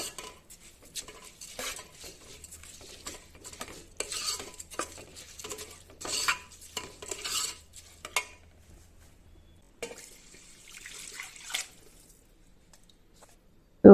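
A spoon stirs rice coated in oil in a metal pot, giving repeated scraping and clinking strokes of varying loudness, close by, ending with a sharp knock.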